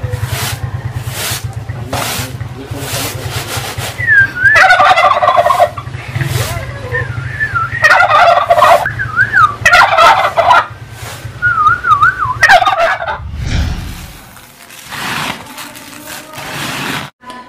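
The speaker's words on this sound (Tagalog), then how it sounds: "Nag-iingay yung mga turkey namin." Domestic turkeys on a farm gobble loudly and close by in repeated warbling bursts, several birds overlapping, with short quiet gaps and a low rumble in between.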